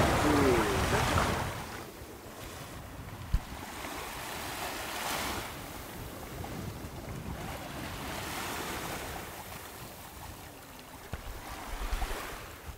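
Ocean waves wash onto a beach during a bellyboard lesson, a steady broad roar of surf with swelling surges and wind noise buffeting the microphone, fairly close and continuous.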